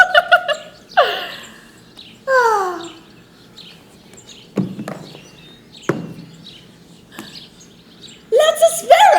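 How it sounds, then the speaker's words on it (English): Sparrows chirp during a stage production of Dracula, in scattered short bursts of bright twittering. Sharp knocks and taps fall between the bursts, and a loud flurry of calls closes the stretch. "Lots of sparrows here."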